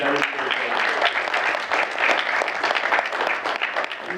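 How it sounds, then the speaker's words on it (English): Town hall audience applauding together at a Massachusetts congressional town hall, a dense, steady wash of clapping that holds at full strength from start to finish with no voices over it. "can we give another round of applause to Paul Coogan"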